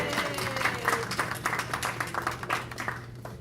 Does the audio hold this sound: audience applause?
yes